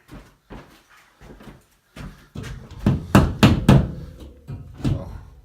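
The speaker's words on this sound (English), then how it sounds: "just going to tap that in with a hammer" A hammer taps a wire closet rod shelf into place, a series of sharp, hollow knocks, sparse and light at first, then heavier and quicker, ringing close up.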